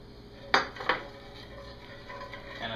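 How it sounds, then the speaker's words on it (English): A spoon scrapes and knocks in a pan while it is deglazed, giving two sharp metallic clinks close together, then a quiet, faint rustle of stirring. "stir slowly, like you did with the Au Jus, to deglaze the pan"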